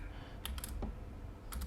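Short bursts of typing on a computer keyboard as a folder name is entered, a few quick clustered keystrokes separated by a pause, close and fairly quiet.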